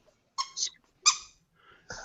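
Rubber duck squeeze toy squeaking three times in short, separate high-pitched squeals, close and fairly loud, with silence between them.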